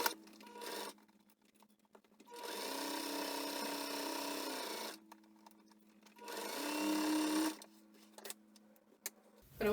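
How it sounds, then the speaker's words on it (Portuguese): A sewing machine stitches a straight seam on plastic in two bursts of rapid, even whirring separated by quiet pauses, close and clear. "E vamos passar uma costurinha reta também, daqui até aqui."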